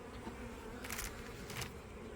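A steady, dense hum of many bees buzzing together in a hive in spring at about 10°C, with brief louder swells as some fly close by.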